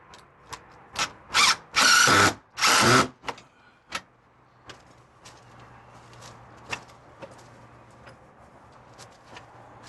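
A power drill drives screws into a Larson Tradewinds storm door during installation, a few short whirring bursts followed by two longer runs, then scattered clicks and light taps close by.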